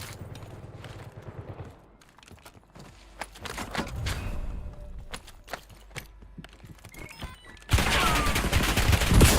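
Bursts of SMG gunfire in Call of Duty Warzone, sharp rapid cracks scattered among footsteps and shuffling, ending in a loud, dense stretch of sustained fire.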